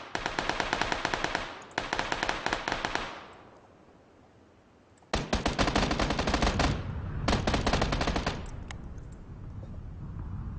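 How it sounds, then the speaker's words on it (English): Automatic gunfire in the PlayerUnknown's Battlegrounds video game crackles in long rapid bursts. One burst stops, a short quiet gap follows, then heavier sustained fire returns before fading to scattered shots, with no talk. "Let's shoot him."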